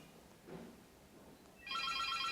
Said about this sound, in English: that is her phone there.